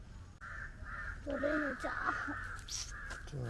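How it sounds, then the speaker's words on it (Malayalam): A crow caws a few times at moderate distance, with harsh repeated calls over a steady background hum and faint voices. "കാക്കമ്മയോ"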